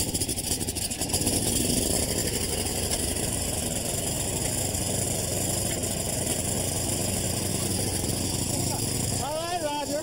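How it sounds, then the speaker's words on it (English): A gasoline snow blower engine runs steadily at close range with a dense mechanical rumble, and a few squealing, whistling sounds come in near the end. "So let's fuel it up, fire it up, and see how it runs."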